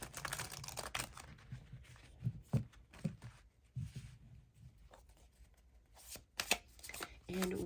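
Oracle cards shuffled by hand, with irregular papery flicks and soft riffles close by, alternating with quieter gaps.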